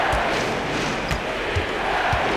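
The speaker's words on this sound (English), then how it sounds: "This crowd got electric." An arena crowd in a basketball simulation video game cheers and roars in a dense, sustained wash, with a few thumping bounces and faint commentary mixed in.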